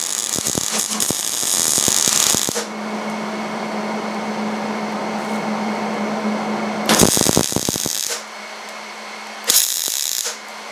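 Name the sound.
welding axle into pipe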